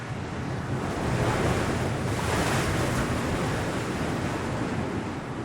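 A choppy sea along the Spanish coast, with constant loud surf rushing and churning, mixed with buffeting wind noise on the microphone and no voices.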